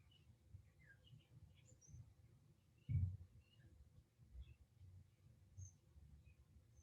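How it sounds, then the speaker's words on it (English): Faint, scattered chirps and squeaky calls from two birds fighting outside a window, irregular and agitated, with a soft thump partway through against a quiet background. "there are two birds like having a legitimate fight outside my window"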